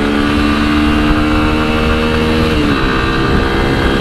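A Yamaha Ténéré 250 motorcycle fitted with a smaller 38-tooth rear sprocket is accelerating hard through the gears. The engine note is loud and close, with a droning whine that dips briefly at a gear change and then climbs again.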